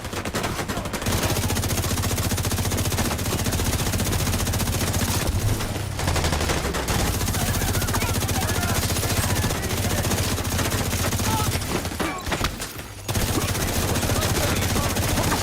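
Gunfire from a first-person shooter video game, with dense, continuous rapid shots and bursts at steady loudness that drop out briefly near the end before resuming.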